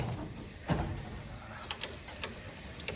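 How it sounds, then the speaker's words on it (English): The back barn door of a dairy cow barn slides open on a rainy day, giving a short rolling rumble followed by scattered clacks and rattles close by. "We're gonna open the garage, the back barn door"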